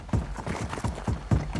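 A horse steps across wooden planks outdoors by a creek, hooves landing in a steady series of hollow, close thuds and clops.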